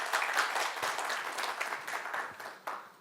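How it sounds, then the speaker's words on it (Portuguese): A training-session audience claps for a participant, a fairly faint, short burst of scattered applause from a small group, tapering off near the end. "Uma salva de palmas"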